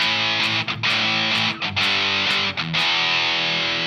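Heavily distorted electric guitar chords through a Jackson Audio 1981 overdrive pedal ring out, sustained and loud, with brief gaps about once a second where the strums change.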